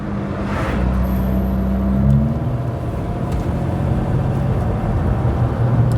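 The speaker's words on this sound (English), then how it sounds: "And the smooth 6-cylinder engine and smooth 3-speed transmission that kind of just wants to get into top gear as quickly as possible." A Leyland Princess limousine with a smooth six-cylinder engine and three-speed transmission, a steady low engine rumble running throughout as it drives, a brief rise in revs early on, then settling into an even cruise.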